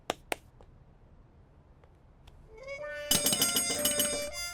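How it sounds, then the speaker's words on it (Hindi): A couple of faint clicks, then an electronic doorbell chime rings out loudly, playing its tune with repeated ringing tones. "घंटी बजा।"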